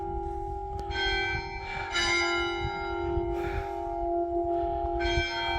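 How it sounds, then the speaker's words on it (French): Church bells ring out in a sustained, resonant peal, overlapping strikes blending into a continuous ringing tone. "les cloches sonnent."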